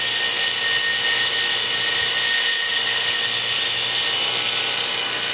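Continuous high-pitched grinding hiss of a grinder's contact wheel sharpening a vintage axe head, loud and steady throughout with a faint low hum underneath and no talking.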